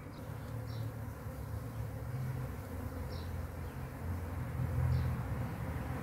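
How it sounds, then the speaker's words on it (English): Honeybees flying at a hive entrance make a steady, dense buzzing drone, with individual bees zipping past now and then, even and moderately loud throughout with no speech. "It does appear that there are quite a lot of bees in the air."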